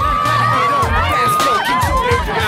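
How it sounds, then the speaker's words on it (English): Crowd of curious onlookers gathered in a Tokyo street, excited voices and cheering whoops overlapping in a lively babble close by, loud and busy throughout. "it's a crowd. People are taking pictures of us with their mobile phones."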